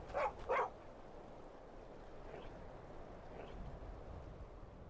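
Two quick barks from a dog in Skyrim, fairly close, at the very start, then only a low ambient game background with faint distant calls.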